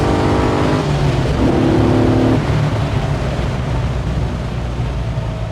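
An LS V8-swapped BMW E46 wagon accelerates hard, its loud engine note rising through a short run of revs before settling into a steady, rumbling drone with road and wind noise.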